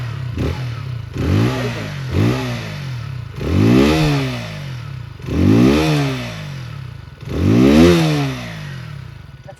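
A 2025 KTM Duke 160 motorcycle engine idles, then is revved repeatedly in rising, roaring bursts that fall back between each throttle blip, loud and close.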